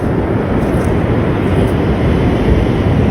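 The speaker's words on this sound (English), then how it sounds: "It's a whole lot of noise right now. Airplane and the surf." Steady, loud roar of an airplane passing overhead blended with broad, constant rushing noise of beach surf, no distinct breaks and no talking.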